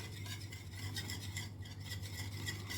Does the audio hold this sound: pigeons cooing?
no